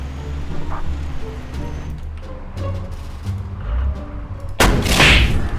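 An XM8 tank cannon fires once in a video game, a loud, sharp boom late in the clip after low engine rumble and scattered thuds.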